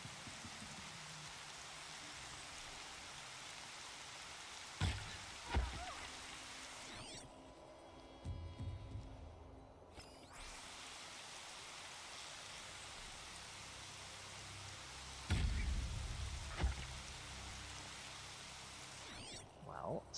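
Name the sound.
rain in the video game Horizon Zero Dawn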